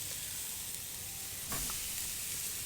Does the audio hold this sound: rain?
no